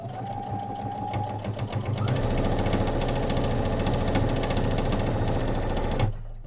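A sewing machine stitches down the front placket of a onesie, starting with a lighter whir and then settling into a loud, steady, rapid mechanical hum with fast rhythmic needle knocking, stopping abruptly near the end.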